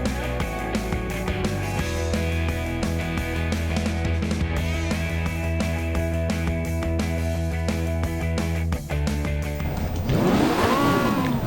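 Engines of 1995 Australian Super Touring Championship cars idling and burbling together on the grid at Mallala before race 2, a steady dense engine drone with a louder revving car sweeping past near the end.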